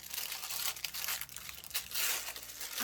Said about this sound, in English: I don't always rip the packaging.